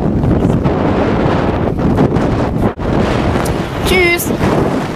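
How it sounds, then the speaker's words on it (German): Strong wind buffets the microphone on the North Sea coast in winter, a loud continuous roaring rush with gusts, and a brief voice-like cry near the end. "Es ist heute wirklich der windigste Tag der ganzen Woche"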